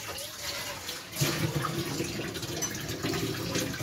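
Tamarind pulp being rinsed clean under a running kitchen tap, with a steady splashing wash of water that swells slightly partway through, heard close and alone with no talking.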